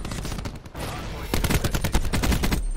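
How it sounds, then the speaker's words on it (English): Rapid automatic gunfire in Call of Duty Black Ops 4 Hardpoint league play, the KN-57 rifle, firing in dense close bursts that grow louder and more sustained in the second half, with faint voices underneath. "I'm freaking shooting our team."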